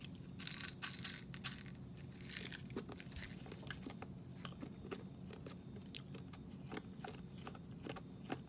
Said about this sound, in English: These are even easier to crunch than the grape was.